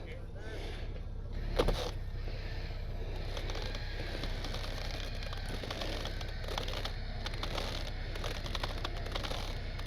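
A tracked RC Jeep grinds in reverse while trying to climb, giving a steady low motor whine with scraping and crackling and one brief louder knock early on, under people talking nearby.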